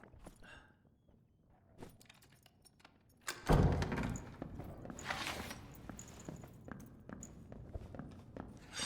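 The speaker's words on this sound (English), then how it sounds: "But I think I hear footsteps" Footsteps patter softly in the dungeon video game Dark and Darker, scattered steps and thuds with a louder impact midway, then continued tapping over quiet ambience.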